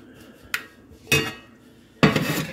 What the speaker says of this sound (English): Mix this in a little bit.